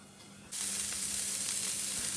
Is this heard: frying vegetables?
yes